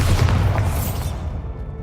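Bombarda blasting spell cast in Hogwarts Legacy: a deep, rumbling explosive boom with a heavy low-end burst that rolls on and slowly fades over about two seconds.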